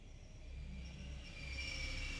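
A train rolling past in the adventure game The Longest Journey, a steady rumbling rail drone with a faint high squeal, building slightly louder over a couple of seconds.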